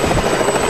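A privately owned helicopter gives a brief, loud, close thrum of rotor noise with no pauses.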